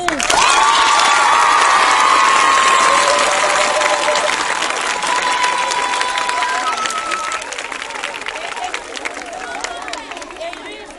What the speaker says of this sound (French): On va applaudir pour lui.